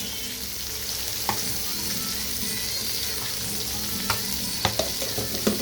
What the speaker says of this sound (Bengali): পেঁয়াজগুলোকে একটু লাল লাল করে ভেজে নেব।